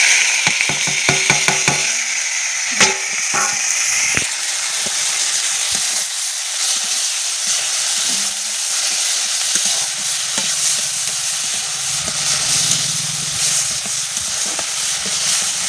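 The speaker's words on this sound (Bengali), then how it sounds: "আর এদিকে আবার তেল দিয়ে কড়াইয়ে ডাল আর লঙ্কা দিলাম।" Lentils and chillies fry in hot oil in a wok over a clay village stove, opening with a few sharp scraping clanks of stirring before settling into a steady, close, bubbling sizzle with no talk.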